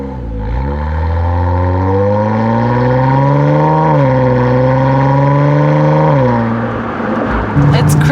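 A 2023 Nissan Z fitted with an APEXi aftermarket exhaust revs up in a long, loud, close rising pull, holds high, then dips and climbs again before dropping to idle, with voices talking faintly over it.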